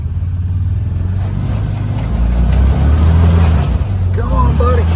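A Can-Am off-road vehicle's engine drones low and steady while it swims through water, revving harder toward the end, with voices talking and calling out over it.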